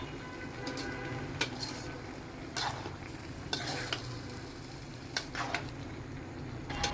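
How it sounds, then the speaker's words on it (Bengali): Dried mini fish being stirred and fried with winter vegetables in a pan for curry, a soft sizzle under scattered spatula scrapes and clinks at an irregular pace, quiet and close. "ঢাকনা খুলে নেড়ে চেড়ে এভাবেই এই শুটকিটাকে প্রথমে সবজিগুলোর সাথে কষিয়ে নেওয়া হচ্ছে"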